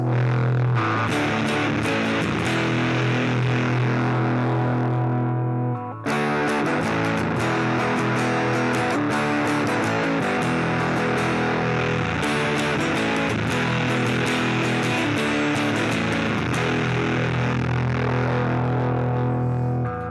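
Electric guitar played through a fuzz distortion with its volume knob rolled halfway down, a thick, saturated, sustained tone with chords ringing continuously for about twenty seconds, one brief dip near the middle, no talking.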